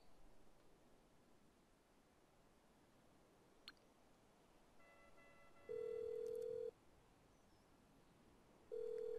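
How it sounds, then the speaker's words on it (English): A phone rings on the line while calling the mechanic in GTA V Online, two steady ring tones over faint background noise with no voices. "Open up your phone, go to your mechanic,"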